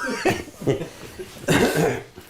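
A man coughs a few times in short, rough bursts, close and fairly loud, mixed with chuckling in a comedic sketch.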